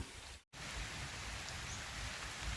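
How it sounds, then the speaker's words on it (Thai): Light rain from Typhoon Noru patters steadily on surfaces outdoors, a soft even hiss with a brief dropout near the start and no voices. "สายฝนพรำเปาะแปะ เปาะแปะนี่ก็ เป็น ผลพวงจากอิทธิพล พายุโนรู"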